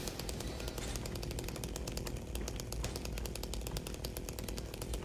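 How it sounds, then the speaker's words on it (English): A chainsaw in a spooky video game runs loud and continuous, its buzzing engine rattling in rapid pulses throughout without any voices. "God, I forgot how loud and just obnoxious the chainsaw makes everything."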